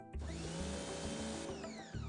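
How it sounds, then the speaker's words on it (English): A high-pressure washer runs with a steady, loud motor whine and a strong pump hum, broken by brief pitch shifts and a short dip near the end. "Now the high pressure washer can be switched on and used to clean."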